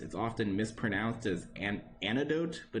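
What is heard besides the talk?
None of the usual background noises is heard.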